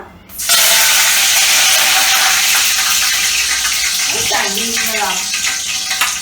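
Curry leaves dropped into a generous amount of hot oil in a pan for misal burst into loud, continuous sizzling and crackling close up, holding strong for several seconds.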